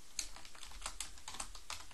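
Fingers type on a computer keyboard at a shell prompt, a close, steady run of crisp key clicks in irregular bursts with no one speaking.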